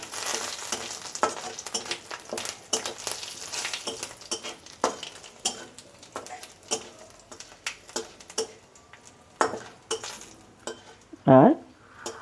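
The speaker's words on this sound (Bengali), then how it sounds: "এটা আমি একটু ভেজে নেব।" Panch phoron five-spice seeds fry in a little oil in a pan, giving soft crackling sizzle with a steady run of small ticks and pops, a spoon scraping now and then and one brief louder clatter near the end.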